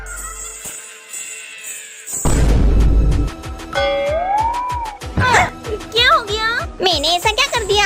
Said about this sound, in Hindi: मम्मी पापा ये तो मेरे पायल की आवाज है।